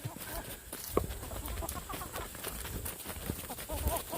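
Meat turkeys on a farm at dusk give scattered soft clucks and short calls at close to middle distance, over a steady outdoor background.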